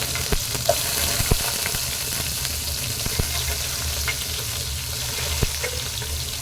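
Onion and crushed garlic sautéing in a pan for fish curry, a soft continuous sizzle with a few scattered clicks and taps of stirring, no voices.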